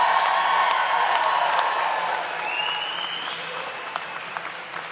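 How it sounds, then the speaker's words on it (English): A large audience of educators at a union convention applauds, a broad steady roar of clapping that gradually thins and softens toward the end, with faint voices in the hall. "I want you to stand up and applaud."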